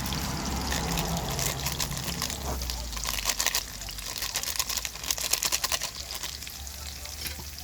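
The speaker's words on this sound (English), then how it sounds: "So what I do now, I just pour in the curry." Curry goat poured into a hot pot sizzles loudly, a steady frying hiss with stirring and bubbling throughout.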